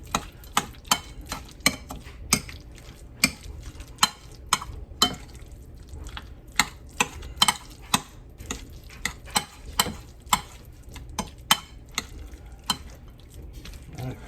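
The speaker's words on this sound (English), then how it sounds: "Now we stir. Get it mixed in good." Shrimp salad is mixed in a bowl, with a long run of sharp, evenly spaced utensil clicks and scrapes against the bowl, close and clear, with no voice.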